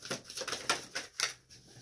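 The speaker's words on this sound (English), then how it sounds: "We're going to shuffle a little bit more." A tarot card deck being shuffled by hand: a run of crisp papery flicks and riffles in uneven bursts, close and fairly quiet, with no voices.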